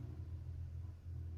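Race car engine in an F1 video game doing burnouts in the pit lane at Barcelona, a steady low droning rumble held throughout without clear revving peaks.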